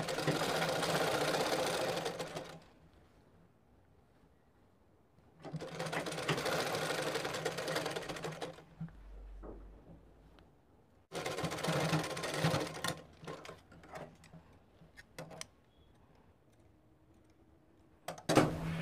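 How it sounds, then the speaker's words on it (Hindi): A sewing machine stitches the hem of palazzo pants in three long, steady mechanical runs of rapid whirring, split by short quiet pauses and a few light clicks. "इस तरीके से हमने ये मोहरी की सिलाई दे दी है"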